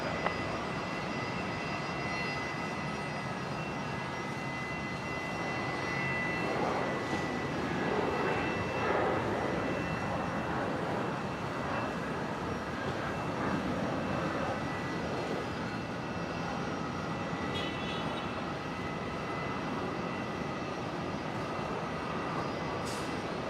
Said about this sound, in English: Qantas 90 coming in from Namia here on 19er left